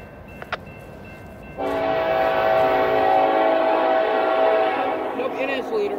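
Norfolk Southern NS 154 mixed freight train passing in Spartanburg, South Carolina, its horn blasting a long, loud, sustained chord close by over a rumbling rail background, fading slightly at the end.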